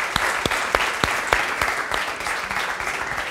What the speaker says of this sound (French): vous pouvez descendre sous les applaudissements, s'il vous plaît.